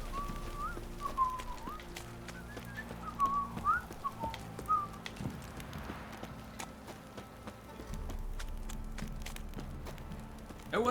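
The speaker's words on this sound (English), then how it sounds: "That guy's whistling." A character whistles a wandering melody in a town in The Witcher 3, over steady horse hooves clip-clopping and background ambience, the whistled notes moderately close and intermittent across the first few seconds.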